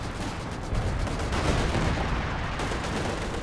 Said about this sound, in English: British artillery is there.